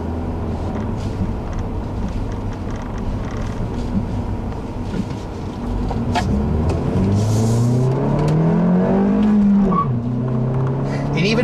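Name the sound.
2014 Ford Fiesta 1.6 engine accelerating, five-speed manual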